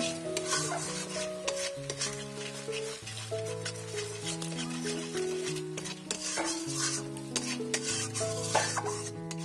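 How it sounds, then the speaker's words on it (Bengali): A masala of poppy seed paste and fish brain, for a katla fish head curry, is stirred and sautéed in a pan, with a steady scraping and rubbing of the spoon over a soft sizzle, close and continuous. "এগুলোকে ভালো করে একটুখানি জল দিয়ে কষিয়ে নেব কিছুক্ষণের জন্য।"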